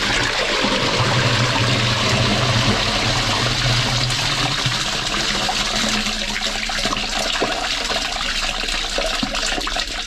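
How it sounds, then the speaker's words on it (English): A toilet is flushed upstairs in a house during a blocked-drain inspection, heard as a steady, fairly loud rush of water that runs without a break for about ten seconds, with no voices. "They're flushing now."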